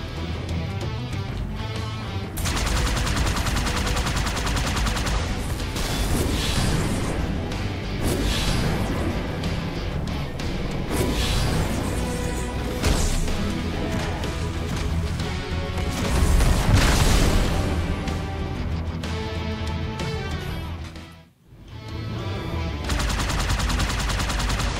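Dense gunfire and booming blasts from combat in the video game Halo 2 Anniversary, including sniper fire at distant enemies, sound loud and continuous with a brief drop to near silence before resuming.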